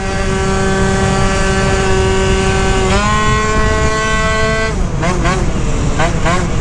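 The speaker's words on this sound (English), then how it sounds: "I forgot about the straight cut gear sound on this too" A Malaguti Phantom F12 race scooter with straight-cut gears runs close and loud, its engine holding a steady whining drone, then rising in pitch and revving up and down in quick bursts, with someone talking over it.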